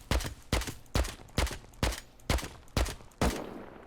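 Eight evenly spaced AK rifle shots from the Rust video game ring out in a steady semi-automatic rhythm, each a sharp loud crack with a short tail, the last one trailing off a bit longer.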